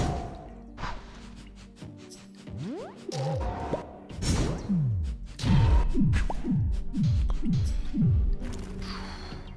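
Game sound effects from Starground, a Godot-made title, hit repeatedly: a series of rhythmic descending slam-like thuds and whooshes, fairly loud and close, with scattered clicks before them.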